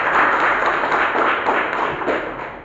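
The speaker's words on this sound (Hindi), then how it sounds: "तो एक बार इन सभी मेहमानों के लिए दिल से तालियां होना चाहिए" Audience applause for guests at an event in Kanpur Dehat: steady, dense clapping from a crowd, sustained and fairly loud throughout, slowly easing off near the end.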